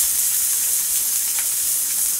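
Yakiniku meat sizzles on a grill, a steady bright hissing crackle held at an even loudness throughout, close and alone with no talk.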